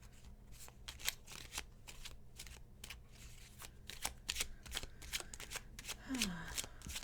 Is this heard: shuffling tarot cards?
yes